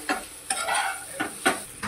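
Masala Maggi noodles with chili powder and turmeric stirred in a pan: five or six distinct scraping strokes of a spoon against the pan, close and fairly loud, over a light sizzle.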